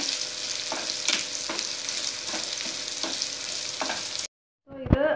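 Raw banana with curry leaves sizzles in an oiled pan while being stirred in regular strokes about every second. The frying stops abruptly, then a short voice follows.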